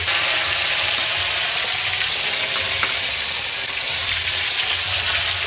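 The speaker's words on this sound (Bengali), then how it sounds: "তেলটা গরম হয়ে গেছে এবার কড়াইতে আমি মাছটাকে ভেজে নেব প্রথমে দিলাম মাথাটা" A fish head sizzles and fries in hot oil in a wok on a home kitchen stove, a steady, close, crackling hiss that holds evenly throughout with no talking.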